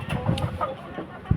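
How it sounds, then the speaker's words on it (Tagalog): Chickens in a poultry coop clucking in short, scattered bursts as they rush out, with one sharper call near the end over a low, busy background. "Nagwawala na ang mga manok."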